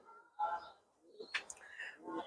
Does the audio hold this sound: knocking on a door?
no